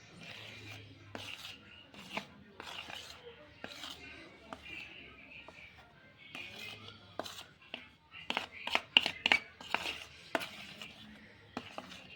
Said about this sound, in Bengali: তো বন্ধুরা দেখো আমি আস্তে আস্তে এটা মিক্স করে নেব